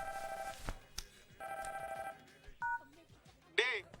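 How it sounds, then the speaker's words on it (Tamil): A phone rings in a dubbed South Indian comedy film scene, with repeated electronic ringtone bursts in short rhythmic pulses at moderate volume, mixed with other tonal sounds. "ஃபோன் அடிக்குது."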